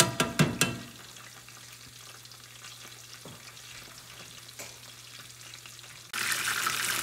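Salt and pepper chicken wings deep fry in oil at about 300 degrees, a steady close bubbling sizzle broken by a few sharp clicks at the start and a louder burst of sizzling near the end.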